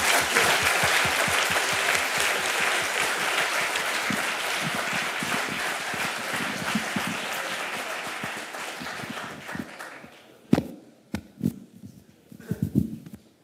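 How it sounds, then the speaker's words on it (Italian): An audience at a talk on climate change and river management gives sustained, dense applause that slowly thins and breaks into a few scattered final claps near the end. "Applausi."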